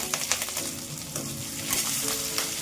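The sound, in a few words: garlic, green chilli and curry leaves frying in ghee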